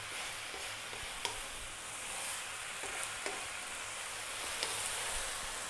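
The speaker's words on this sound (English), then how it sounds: "Throwing this around in the pan." Chicken chow mein noodles sizzle steadily in a hot pan as they are tossed, with a constant bright frying hiss and occasional soft clatters from the stirring.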